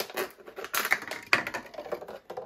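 Scissors snip through the tops of plastic containers in a quick run of sharp, crisp cuts and crackles, close by, with brief pauses between bursts.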